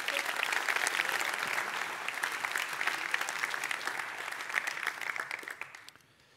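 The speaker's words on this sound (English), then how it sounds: "we should do like a round of applause for Awwwards" Conference audience at a design talk gives the Awwwards team a sustained round of applause, a fairly distant, even patter of many hands that fades out abruptly after about six seconds.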